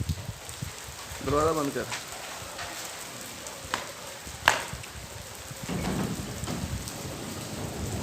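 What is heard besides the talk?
heavy rain falling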